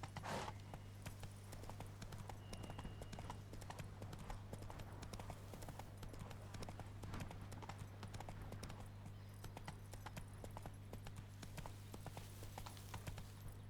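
Horse hooves clip-clopping in The Witcher 3 video game, a steady stream of trotting hoofbeats with game ambience and a low hum underneath, continuous for the whole stretch.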